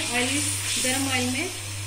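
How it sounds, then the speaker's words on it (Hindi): Tomatoes frying in hot oil for chicken macaroni give a steady broadband sizzle with a faint voice or tonal hum underneath, continuous and close throughout. "गरम ऑयल में टमाटर डाल दिए थे।"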